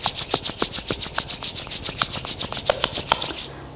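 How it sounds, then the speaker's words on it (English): Two palms rub briskly together in a steady back-and-forth rhythm, about two dozen quick, close, dry swishing strokes that stop near the end, with no voices. "rub your palm."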